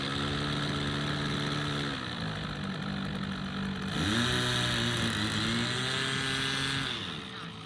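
A Freewing AL37 twin 70mm EDF RC jet airliner whines steadily overhead, its electric ducted fans holding a tonal hum that dips and then swells as the throttle changes, moderately distant and alone.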